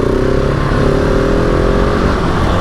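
A Husqvarna 701 motorcycle accelerates hard in second gear, its engine loud and close, with a steady roar whose pitch climbs smoothly through the clip, and no talking.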